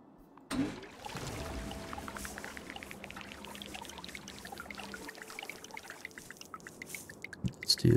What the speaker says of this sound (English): Let's do the water pump.